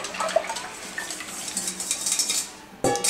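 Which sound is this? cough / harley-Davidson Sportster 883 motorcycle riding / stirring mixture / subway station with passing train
stirring mixture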